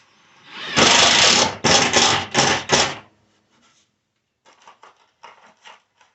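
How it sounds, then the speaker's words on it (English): A power drill drives screws from the back of a drawer to attach a 3/4-inch drawer face on a 1/2-inch plywood drawer: four loud whirring bursts, then a pause and softer short ratcheting bursts. "And attach it with 4 screws from the back."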